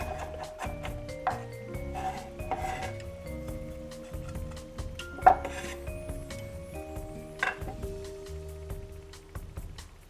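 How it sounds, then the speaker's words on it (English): A chef's knife rocking over garlic on a cutting board, giving a quick run of light, rhythmic tapping clicks, close by, with soft background music playing underneath. "You're just going to rock your knife over the garlic to the desired consistency that you want."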